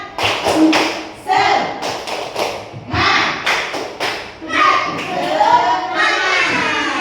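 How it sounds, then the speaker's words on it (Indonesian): Students in a classroom clap together in a quick, rhythmic spirit-clapping pattern: sharp, close, loud claps in bursts, mixed with children's voices chanting along. "Tepuk semangat dulu, tepuk semangat"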